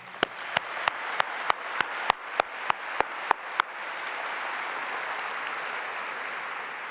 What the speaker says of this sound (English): Please join me in giving them a huge round of applause.